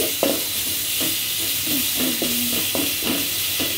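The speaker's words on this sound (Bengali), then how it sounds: "এই যে রসুন পেস্ট দিচ্ছি।" Garlic paste sizzles in a small amount of oil in a pan, a steady hiss with several scraping stirs, no voices.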